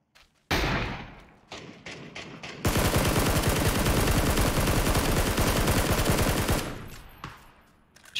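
Heavy gunfire in PUBG opens with a few separate loud shots, then breaks into a long, dense automatic barrage lasting several seconds before cutting off, close and very loud with no talking.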